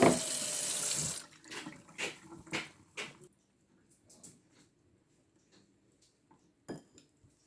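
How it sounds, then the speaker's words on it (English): Cold tap water runs loudly into a kitchen sink as beef is rinsed, stopping after about a second, then a series of clinks and knocks of dishes and utensils follows, with sparse clatters afterward. "I'm going to rinse it with cold water or room temperature water."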